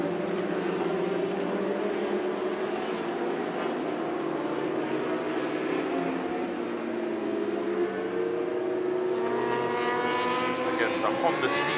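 Superstock racing motorcycles, including a BMW and a Honda CBR 1000 RR, scream around the track in a Pirelli superstock race. Their engine notes rise and fall in long sweeps with several bikes overlapping, while a commentator talks over them.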